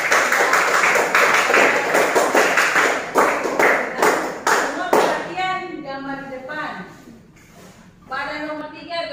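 A classroom group claps hands in quick, loud bursts for about five seconds, then the clapping stops and a person speaks.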